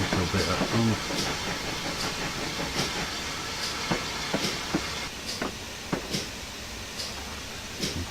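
A steam locomotive runs along the line with a steady rumbling hiss and a regular clickety-clack of wheels over rail joints. Sharp periodic clicks stand out above the continuous chuffing and steam roar.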